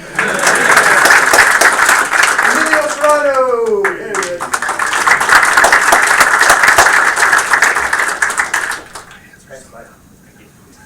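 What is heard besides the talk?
audience applause for awardees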